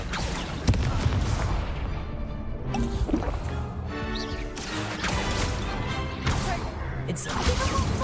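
Incendio fire spells cast over and over in Hogwarts Legacy, a dense run of bursting, crackling whooshes and impacts layered with game effects, loud and continuous throughout.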